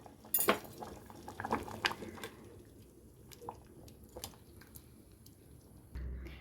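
Green gram saaru with tamarind bubbles faintly in a pot, a low simmering murmur broken by a few clinks of a utensil against metal near the start and a soft knock toward the end.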